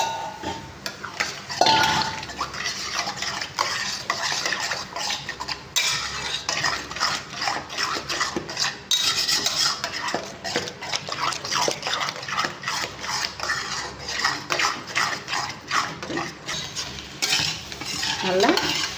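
Ten eggs are beaten briskly in a bowl, a steady fast clatter of utensil against the dish running continuously at close range with no talking.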